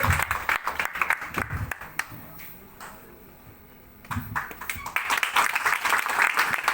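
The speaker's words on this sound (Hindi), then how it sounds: "मैं चाहूंगा कि उनके लिए जोरदार ताली होना चाहिए" An audience at an award ceremony claps in loud bursts at the start and again toward the end, with a quieter stretch between where someone speaks over a microphone.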